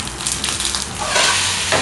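A frying pan of food on a stovetop in a Turkish recipe, turned over mid-cook, giving a steady close sizzle with a brief scrape and rustle of flipping, no voices.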